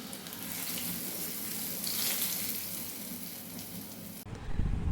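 A tempering of hot oil with crushed red chili is poured over cluster bean saag, producing a steady, bright sizzling hiss that cuts off abruptly near the end.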